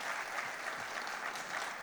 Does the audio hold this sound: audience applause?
yes